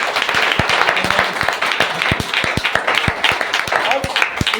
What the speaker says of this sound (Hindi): लेकिन ताली बजाने का टाइम।